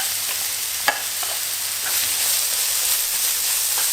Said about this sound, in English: Stir fry about 1 minute until the onions are translucent.